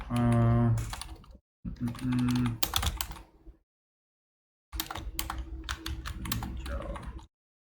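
Typing on a computer keyboard while writing a code comment in a Golang project, a rapid burst of close, crisp key clicks that stops for a second and then resumes after a pause, with someone briefly speaking at the start.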